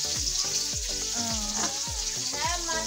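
Onion, garlic and ginger fry in oil with a loud, continuous sizzle, close by, with faint scraping of a spoon stirring through the pan.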